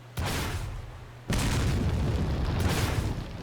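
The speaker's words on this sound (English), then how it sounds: "let me show off real quick the fire rate on the rocket launcher" Rocket launcher firing in Resident Evil 4, two heavy booming blasts in quick succession, the second louder and sustained with a rushing roar that trails off, close and loud with no talk.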